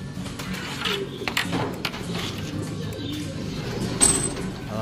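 Racing pigeons at a midtoss in Tayug, Pangasinan give soft, low coos near the mic, with bird calls and a brief sharp chirp near the end, over a busy background.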